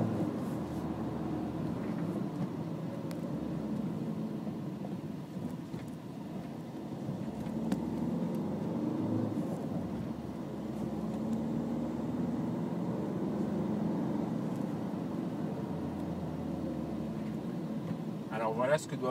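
Citroën DS4 2.0 HDi 160 hp So Chic on the move, a soft, steady cabin drone and road rumble running low beneath someone talking throughout.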